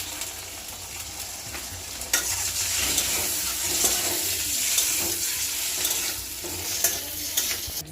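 Food frying in hot oil in a home kitchen, a loud continuous sizzle with scattered sharp pops and a few stirring scrapes, close and steady throughout.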